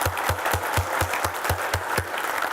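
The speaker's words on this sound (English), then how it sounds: "Let's give her a round of applause." Audience applause fills a talk-show style event, steady rhythmic clapping from a crowd sustained throughout, fairly close and continuous with no talk over it.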